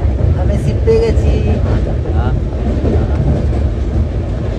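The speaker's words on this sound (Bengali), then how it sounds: "আমরা এখন ট্রেনের ভেতরে আছি।" Inside a moving passenger train at night, a loud continuous low rumble of the carriage rolls on, with voices talking over the steady rattle and a few brief squeaks.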